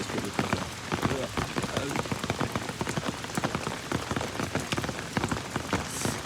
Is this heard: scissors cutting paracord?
no